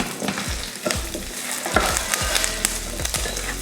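Tamarind and curry leaves fry in a pan for chutney, with a steady sizzle broken by repeated sharp clatters and scrapes of a spoon stirring against the metal, close and lively.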